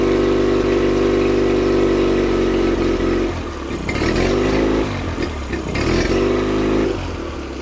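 A small single-cylinder engine running rich on choke while burning oil out of the cylinder, a loud steady idle with a rough, sputtering stretch in the middle before settling again.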